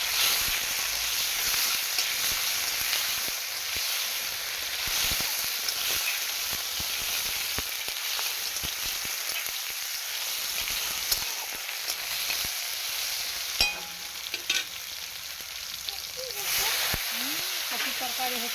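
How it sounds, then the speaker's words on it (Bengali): Cauliflower curry frying in hot oil in a home kitchen, with a constant loud sizzle and hiss and occasional stirring scrapes throughout. "কপির তরকারি হচ্ছে।"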